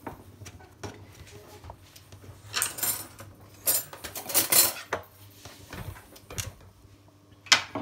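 Soft tortilla dough being cut into four pieces in a home kitchen, giving irregular close knocks, taps and light scrapes of a utensil against a board and bowl, with quiet pauses between and no talking.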